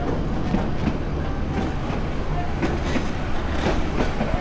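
A passenger train runs along the rails on a morning journey from Dhaka toward Cox's Bazar, a steady rolling rumble with faint rhythmic clacking heard from inside the carriage, no talk.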